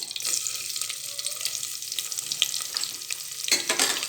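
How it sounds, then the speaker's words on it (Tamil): Onions sauté in a pan for coconut milk pulao, giving a steady, hissing sizzle close by, broken by a few brief scraping stirs. "அப்புறம் இதையும் ஒரு வதக்கு வதக்கிட்டு அடுத்து வெங்காயத்தை போடுறோம்"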